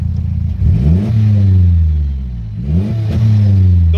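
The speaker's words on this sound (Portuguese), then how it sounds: "Dorme no barulho desse carro pra tu ver." A car with its catalytic converter removed revs twice, each burst climbing into a loud, raspy engine roar that holds and then drops back. It is close and dominant, with no talk over it.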